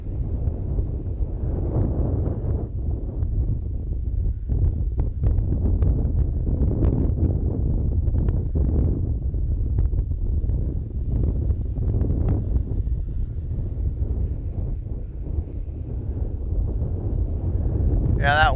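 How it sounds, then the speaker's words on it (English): Wind buffets the microphone at an RC flying field during a flight of an F-86 Sabre model jet. A steady low rumble and roar runs loud and continuous throughout, with a faint high whine from the plane behind it. "Yeah, that wind is really messing with her."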